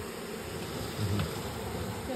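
Honey bees buzz in a steady, close drone during a hive re-homing at a mill house, with a faint swell partway through and no speech.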